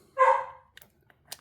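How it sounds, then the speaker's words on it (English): A single dog bark rings out loud and close, one sharp burst followed by quieter faint sounds, in a room where someone is reviewing a Spin Master Toothless and Hiccup toy. "And my dog's barking, so I'm going to have to cut it short."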